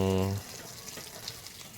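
Water rushes steadily into a fishpond, a broad, even hiss that runs close and constant after a brief voice at the start.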